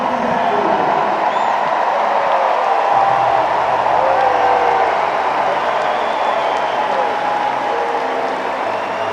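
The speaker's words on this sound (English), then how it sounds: "Listen to the crowd." A US Open tennis semifinal crowd applauds and cheers at length, a dense, steady roar of clapping heard from far off.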